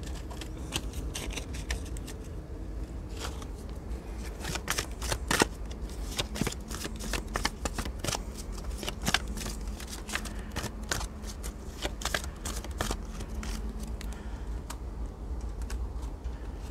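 Angel-of-love oracle cards are shuffled close up for a reading, a run of quick crisp riffling and flicking snaps repeating steadily with no voices.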